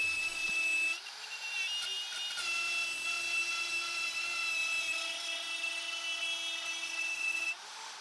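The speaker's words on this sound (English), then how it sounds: "So I'm just going to take my time with the router and trace it out." A router traces around a template on a large wooden beam being shaped into a sculpted fireplace mantel, giving a steady high whine that runs nearly the whole time, with a brief dip near the start and a drop at the end.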